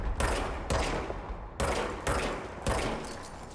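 Gunfire in the video game Control, loud, close bursts of shots in quick succession, five heavy blasts about half a second apart with short decaying tails, no talk.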